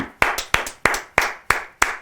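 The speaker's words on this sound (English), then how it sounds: "Yes, clap for the man." Applause for Eric Adams, newly elected mayor of New York City: about seven sharp, evenly spaced claps in a steady rhythm, close and crisp, with no talking.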